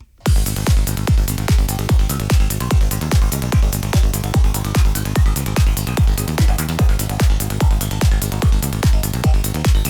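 A driving synthesized psytrance one-shot pattern with rapid, evenly spaced punchy hits, a dense, buzzy tone and a small reverb, loud and continuous throughout.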